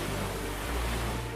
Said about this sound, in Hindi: तेज बारिश के बाद समुद्र की लहरें उफान पर हैं।